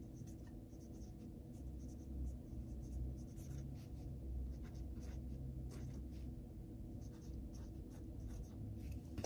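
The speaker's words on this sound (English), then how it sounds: "I'm gonna write everything down because that's just what I like to do." Pen writing crochet notes by hand, faint scratchy strokes in irregular short bursts over a low steady room rumble, quiet and close.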